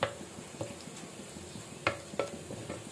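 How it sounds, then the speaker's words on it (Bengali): Masala being sautéed in a pan, with a spoon scraping and stirring in short strokes over a low, steady sizzle, several sharper clinks standing out near the end. "ভালো করে কষিয়ে নিব মশলাটা।"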